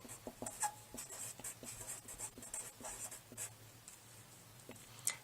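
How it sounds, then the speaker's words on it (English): A pen writes handwritten annotations on paper, with soft scratchy strokes and short taps arriving in an uneven rhythm, close and faint, with no talking. "So I'm going to write that here."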